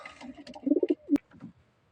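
Pigeons in a loft, including a Grizzle male paired with a Sabji female, give a close, soft run of throaty coos, then a sharp tap and a fainter coo trailing off.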